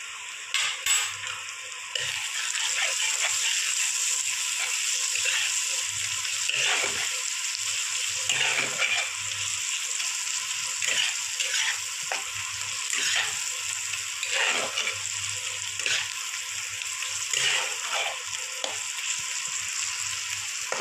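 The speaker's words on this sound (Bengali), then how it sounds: "আমি পেঁয়াজ ভাজায় দিয়ে দেবো একটু সামান্য পরিমাণ হলুদ।" Onions frying in a pan with a pinch of turmeric, a continuous hissing sizzle with occasional stirring scrapes, steady and close for the whole stretch.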